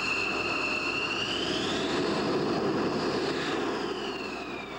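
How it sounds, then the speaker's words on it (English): Two F-16 fighter jets taxi in at an Air National Guard base in Duluth, a loud continuous jet engine roar and whine with a slowly shifting high tone, close by and steady throughout, no voices. "Duluth's first F-16 arrived this morning under blue skies, escorted by a sister jet from Oregon"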